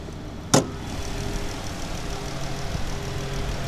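A 2019 Dodge Charger GT with a 3.6 liter engine idles nearby, a steady low rumble broken by one sharp click or knock near the start.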